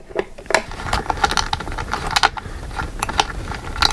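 A pro gaming chair being taken apart, giving scattered metallic clicks, rattles and ratcheting taps of parts and tools at close range, irregular and fairly loud.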